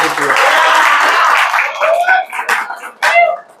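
Audience applause for participants in a gym's internal powerlifting competition, a dense burst of clapping that fades into scattered claps, with a voice speaking over it.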